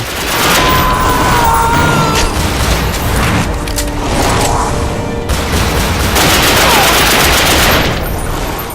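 Rapid automatic gunfire from The Darkness II, dense sustained bursts of shots with booming impacts, loud and continuous throughout.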